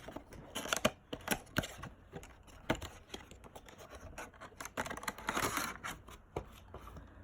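Krosmaster Dofus booster pack being opened by hand: a run of close, crisp plastic crinkles, tears and papery rustles in irregular bursts, fairly quiet, with no talking.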